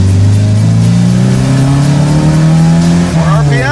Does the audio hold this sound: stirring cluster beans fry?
no